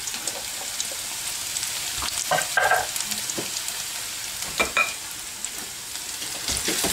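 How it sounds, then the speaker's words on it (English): Chopped garlic and ginger frying in a pan, a soft continuous sizzle with a few brief clinks and stirring taps over it, steady and moderately close. "we'll fry till brown."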